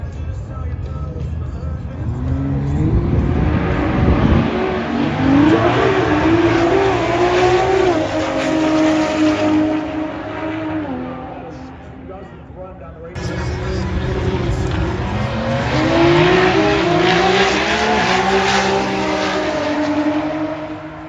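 A drag race car roars past at a drag racing event, a loud sustained engine howl rising in pitch with a sharp change midway, followed by another strong revving pass, with commentators talking over it.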